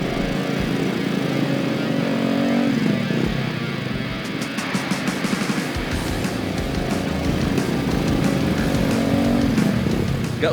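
A motorcycle loaded with harvested crops rides along, its engine droning steadily close by with wind rumble and uneven road noise throughout, no talk.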